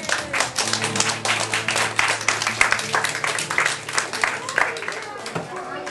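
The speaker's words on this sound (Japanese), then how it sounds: "盛大な拍手を。" Applause from a small audience at a live painting session: distinct individual claps in an irregular, fairly close patter, with a sustained hum and some voices underneath.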